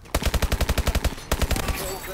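Rapid automatic gunfire in Call of Duty: Advanced Warfare, a fast evenly spaced burst of about a dozen loud shots, a short pause, then another quicker burst.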